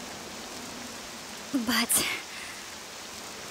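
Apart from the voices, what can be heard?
poison rain falling in video game Octopath Traveler 2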